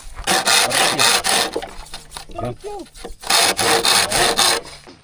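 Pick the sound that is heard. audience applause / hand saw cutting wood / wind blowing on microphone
hand saw cutting wood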